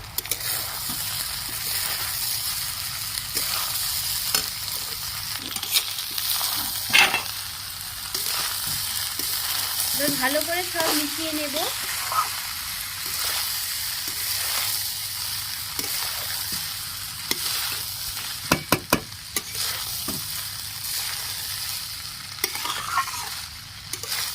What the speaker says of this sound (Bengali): ভেজে রাখা ডিম দিয়ে দিচ্ছি ভালো করে সব মিশিয়ে নেবো